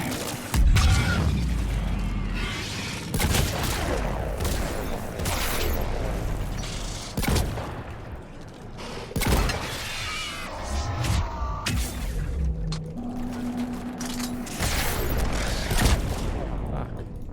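Rapid gunfire from the video game Mass Effect 3, dense bursts of shots crackling over constant game background noise, with scattered mechanical clanks and heavier booms through the fight.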